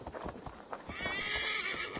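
In Assassin's Creed Valhalla, a horse's hooves clop in a quick rhythm, then it gives a long loud whinny, all close by in a steady game soundscape.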